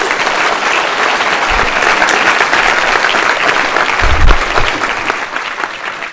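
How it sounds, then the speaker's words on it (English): Audience at a DevOps conference in Portland applauds steadily for about six seconds, a dense wash of clapping with a slight swell near the end and a few low thumps. "can we get a round of applause for Holly?"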